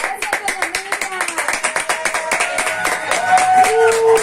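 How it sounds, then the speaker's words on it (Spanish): Rhythmic clapping from a crowd at a Siloé carnival tribute to doña Miriam, fast, even claps carrying on for several seconds, with voices and a sustained tone rising near the end. "Un aplauso para doña Miriam."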